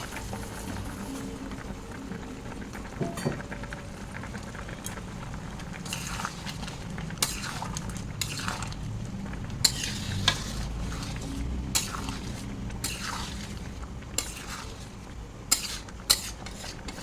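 Oats go into a pot of boiled vegetables and get stirred, giving a soft continuous cooking hiss broken by intermittent scraping and clinking of a spoon against the pot, close and moderately quiet.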